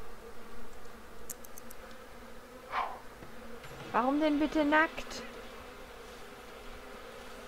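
Angry bees buzz in The Sims 3 during beekeeping, a short burst of insect buzzing in the middle of a quiet game soundtrack, followed and preceded by someone speaking German.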